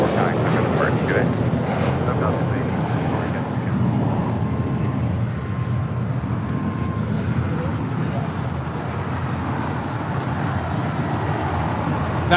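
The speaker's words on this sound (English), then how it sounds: "That was JetBlue 1874 taking off to Newark on an A321" A JetBlue Airbus A321 takes off from LAX bound for Newark, a broad, sustained engine roar holding steady throughout with a faint background hum.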